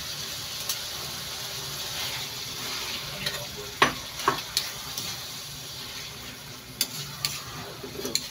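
Pieces of pork sizzle in a pan as they are stirred for pork kinamatisan, a soft continuous frying hiss with scattered scraping clicks and clacks of a utensil against the pan, no voices.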